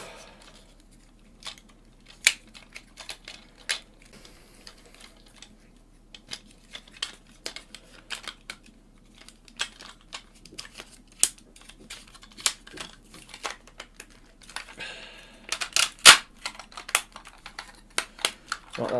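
Plastic parts of a Hello Carbot Lucky Punch transforming toy robot being folded and snapped into place, giving sparse, quiet clicks and taps with a louder cluster of clacks near the end.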